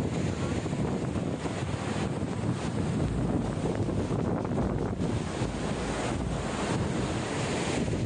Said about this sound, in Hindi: जो वाटरफॉल नीचे जा रहा है हवा से उसके पानी के स्प्रिंकल्स वापस रिवर्स आते हैं